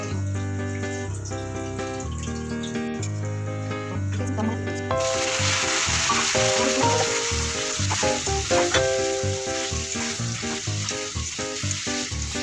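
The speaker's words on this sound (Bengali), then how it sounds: "পেঁয়াজটা আমি দিয়ে দিলাম। পেঁয়াজটা একটু খরা খরা হয়ে গেলে" Chopped onions fry in a pan for chicken curry, a loud, steady close-up sizzle that surges in partway through after a quieter stretch with background music.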